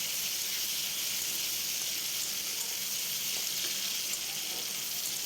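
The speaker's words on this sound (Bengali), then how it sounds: "তো পেঁয়াজটা আমার লাল লাল করে ভাজা হয়ে গেছে এরপরে দিয়ে দেবো টমেটো" Steady, loud sizzling and crackling of onions and tomato frying in hot oil in a pan, continuous with no pauses and no voices.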